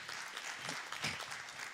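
A Presbyterian church congregation in Brazil claps in a brief, faint burst of applause, steady and diffuse throughout.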